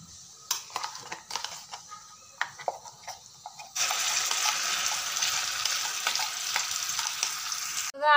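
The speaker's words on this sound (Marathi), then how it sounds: "आता आपण हे वाटण या तेलमध्ये व्यवस्थित फ्राय करून घेऊयात।" Ground spice paste dropped into two ladles of hot oil in a kadhai, a few scattered clinks and taps first, then a sudden loud, steady sizzle that keeps going.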